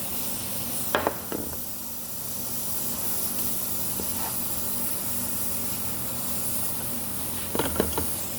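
Butter sizzles in a hot pan as a steady, soft hiss runs throughout, with a few sharp clatters near the start and again near the end, and no talking.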